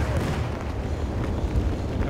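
Bomber aircraft bombs in Battlefield 1 rumble in a continuous heavy, low booming roar of distant explosions on a fortress battlefield, dense and sustained with no clear gaps.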